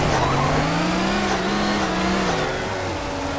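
An engine revs and wails in a car drifting through a snowy map in CarX Drift Racing, its pitch rising and falling in long sweeps as the car slides, loud and close with no talk.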